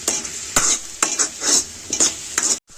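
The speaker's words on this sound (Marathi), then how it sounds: "मस्त परतून घ्यायची" Pav bhaji being stirred and sautéed in a pan: a spatula scrapes in repeated strokes about every half second over a steady close sizzle, ending abruptly.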